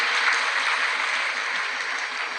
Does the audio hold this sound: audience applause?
yes